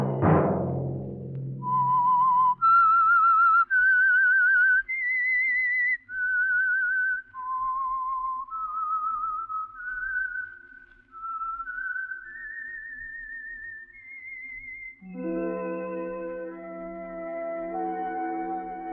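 A lone whistler performs the eerie theme tune of The Whistler radio show, clear sustained notes gliding through a slow melody, ending as an orchestra swells in beneath.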